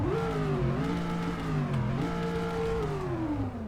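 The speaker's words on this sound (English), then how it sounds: "Let's give it some revs." V8 engine of a DeLorean in the Roblox game Greenville revving steadily and loudly, its pitch climbing and dipping with throttle blips and holding a sustained drone with no talk.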